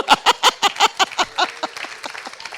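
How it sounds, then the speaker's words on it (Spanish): A short burst of rhythmic applause from a church congregation, several distinct claps in a steady beat that grow softer and quicker toward the end. "Denle un aplauso a Cristo."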